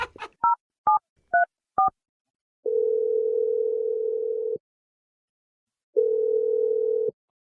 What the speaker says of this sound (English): I'm dialing his number